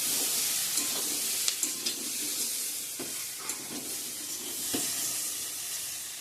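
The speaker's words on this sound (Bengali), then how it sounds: "ভালো করে কষিয়ে নিই।" Spices for ghugni sauté in a hot pan with a steady, moderately loud sizzle, broken by irregular scrapes and knocks of a spatula stirring close by.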